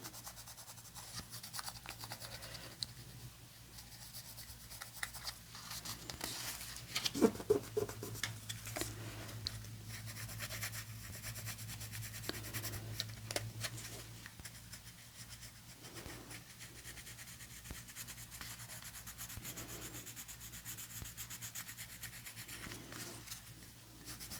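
Black watercolor pencil drawing on a handmade card, soft faint scratching and rubbing strokes close up, quiet and intermittent with a few slightly firmer passages, no talking.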